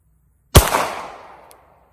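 A single sharp, loud gunshot from a Glock 48 pistol fired at a target, with a quick attack and a long decaying ring-out that trails off over about a second, then quiet.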